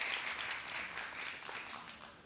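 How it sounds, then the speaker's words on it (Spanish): Audience applause in a classroom debate setting after a call for a show of support, a steady wash of many hands clapping at moderate volume, fairly distant and even throughout. "Aplaudan, pueden aplaudir,"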